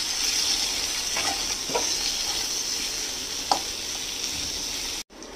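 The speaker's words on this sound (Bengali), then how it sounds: "পেঁয়াজটা হালকা করে ভাজা করে নিয়েছি" Onion with a pinch of salt and green chili fries lightly in a pan, giving a steady close sizzle with a few soft stirring knocks, cut off abruptly near the end.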